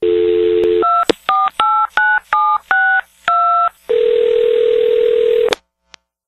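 A phone line hums with a steady dial tone, then a rapid run of about eight distinct dialing beeps follows, each a short clean tone, before a longer ringback-like tone and a sudden cutoff.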